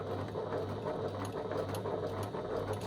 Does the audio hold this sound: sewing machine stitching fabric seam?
yes